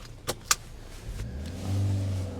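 A car pulling away and accelerating near a roller car wash, with two sharp clicks, then a low engine hum building into a steady drone.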